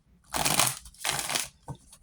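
Two rapid, papery riffles of a tarot deck being shuffled, each lasting about half a second, followed by a brief softer snap.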